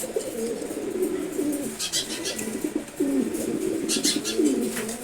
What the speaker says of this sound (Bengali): এটা ফরেন ব্লাড লাইনের এসার কবুতর